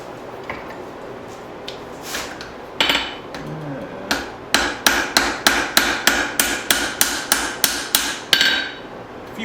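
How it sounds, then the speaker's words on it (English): A hammer forging a spring steel hatchet, lightly shaping the metal with sharp ringing strikes, a few scattered blows at first, then a steady run of evenly spaced, loud, close hits. "I'm going to do a little bit of light forging on the top"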